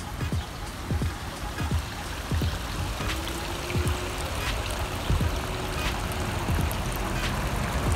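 Continuous splashing and trickling of water flowing over stones in a backyard garden pond stream leading to a waterfall, a steady close babble with scattered drips.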